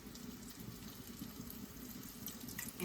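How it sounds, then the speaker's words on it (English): Water pours into a pan of sweet garlic butter chicken, a faint, steady splashing trickle with a soft sizzle beneath, brief and quiet. "And the last thing I'm going to add is the water."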